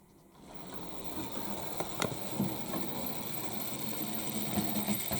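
A model railway Class 14 diesel hydraulic locomotive, nicknamed a teddy bear, starts up and runs with a steady whirring motor hum and faint rhythmic clicks from the wheels on the track.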